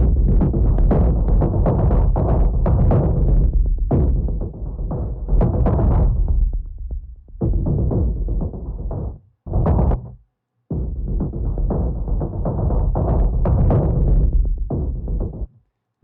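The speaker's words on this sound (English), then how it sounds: "the loops are distorted" Heavily distorted, crunchy percussion loops play in bursts separated by short gaps, with a thick low-end rumble under the gritty hits.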